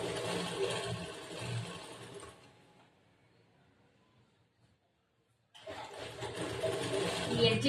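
An electric sewing machine stitching a churidar top runs in a steady whirring burst, stops for a few seconds of near silence, then starts again at the same steady pace.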